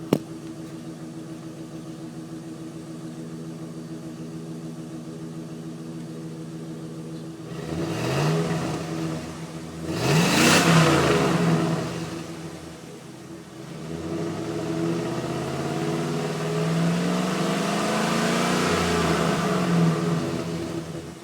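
A 1999 Chevrolet Silverado K1500 engine idles steadily at the exhaust, then revs up three times, each rise swelling and falling back before the idle returns.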